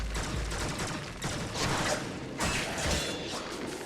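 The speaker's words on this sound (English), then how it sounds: "fighting these poor fools off who are being savagely sliced in half and shot in the face" Gunfire mixed with melee blade slicing during Warframe combat, dense overlapping bursts of shots and swishing strikes with crashing impacts, continuous and fairly loud.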